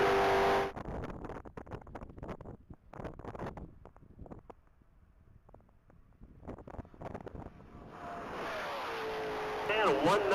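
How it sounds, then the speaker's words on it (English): A 2020 Ford Shelby GT500 runs a top-speed mile on a track, its engine roaring past amid heavy wind buffeting on the microphone, rising and falling in loudness before steady wind noise takes over near the end. "we got car vehicle number 361, Mark Murphy in a 2020 Ford Shelby GT500 going down the track"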